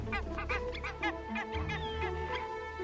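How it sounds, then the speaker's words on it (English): Barnacle geese honking in eastern Greenland in spring, a dense flock calling in rapid overlapping honks, loud and close with no voices. "It's spring in eastern Greenland, and barnacle geese have arrived to breed"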